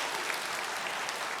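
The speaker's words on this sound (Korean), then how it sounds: "잠깐 환영의 인사 박수 해주시면 감사하겠습니다." A church congregation at a Sunday service claps to welcome a visiting pastor, giving a brief, dense, even burst of applause that stays at a steady level throughout.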